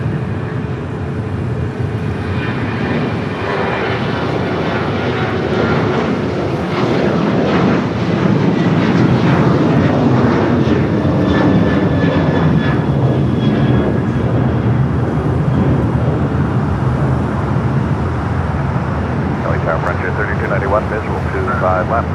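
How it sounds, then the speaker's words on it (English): Boeing 737-900 jet taking off at LAX, a loud, sustained engine roar that swells and holds for about twenty seconds, with a voice talking over it. "Next takeoff is the flight heading to Cabo, 737-900."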